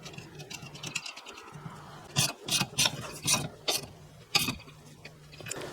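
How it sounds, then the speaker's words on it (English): A nut goes back onto the wiper arm shaft of a Ford Escape, with a burst of sharp metallic ratcheting clicks and small clanks mid-clip over a faint background hum, close up and without speech. "Then we can put our nut back on."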